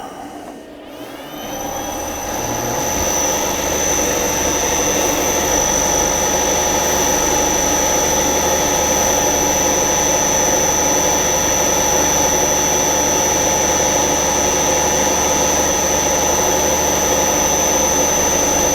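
A lathe spindle on an electronic lead screw shop setup runs steadily at about 450 RPM, a loud continuous whine with a sharp high tone that spins up over the first couple of seconds and then holds constant.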